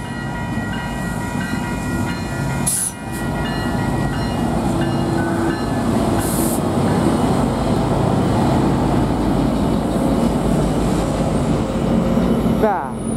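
GO Transit passenger train 3760 rolling past at close range on a January day, a loud steady rumble and clatter of cars with brief sharp squeals and a faint horn-like tone near the end.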